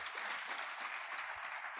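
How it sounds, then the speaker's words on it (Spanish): Applause from a church congregation, a faint, even patter of many hands clapping that continues throughout and is heard from a distance with no speech. "Démele un fuerte aplauso a él, por favor."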